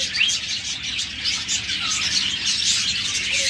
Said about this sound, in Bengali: সকল কালার ডায়মন্ড ডাব রয়েছে